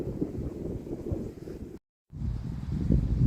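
Gusty wind at a hilltop football ground with covered terraces buffets the microphone in steady low rumbling waves, broken by a brief dropout before resuming strongly.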